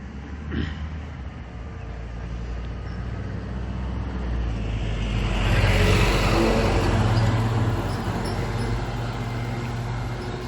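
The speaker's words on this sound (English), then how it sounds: "wanted to wait till that truck went by" A truck passes along an outdoor road, a broad low rumble swelling to its loudest around the middle and easing off, with steady traffic-like noise throughout and no talk.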